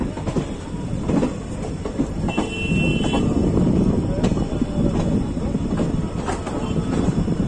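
WDG-4 diesel locomotive approaching on the line near Moradabad–Delhi, heard from a moving passenger express as a steady loud rumble with rhythmic wheel clatter throughout, no talk in the clip.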